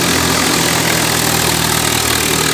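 A Swraj 744 tractor powers a threshing machine running steadily at 1400 RPM, giving a loud, continuous engine drone with low mechanical hum and vibration and no pauses.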